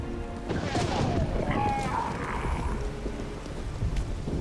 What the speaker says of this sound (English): A magic explosion of some sort. So powerful that even the echo was dangerous.